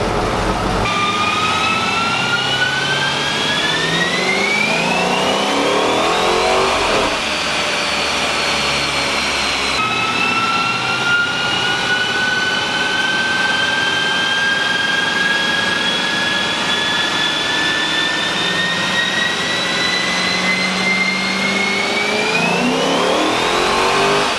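A strapped-down car engine revs hard on a dyno and steadily climbs in pitch, drops back, then winds up again in long sustained pulls, loud and close with a droning roar.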